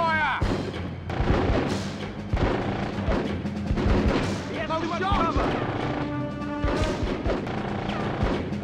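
Rapid bursts of rifle and machine-gun fire crack through a combat firefight in Full Spectrum Warrior on PS2, dense and continuous with soldiers shouting orders over the shooting.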